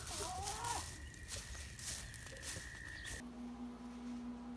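A goose on a homestead gives several honking, clucking calls close by in the first few seconds, with background noise that stops abruptly near the end.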